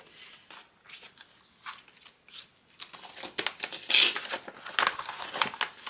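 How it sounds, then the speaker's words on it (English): A metal heart die being cut and handled for a quilted Valentine's Day card front, giving crisp papery crinkles, clicks and a sharp burst midway, close and moderately loud with no talking. "So I'm going to start by showing you how I cut the quilted heart."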